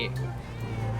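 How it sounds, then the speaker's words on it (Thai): A cat meows once, briefly, inside GTA V, the cry sitting under a steady game soundtrack and engine-like drone, near and fairly clear at the very start before fading into the background hum. "เมื่อกี้มีเสียงแมวร้อง"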